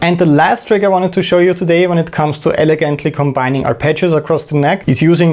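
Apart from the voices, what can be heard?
No distinct noise like a dog, phone or traffic.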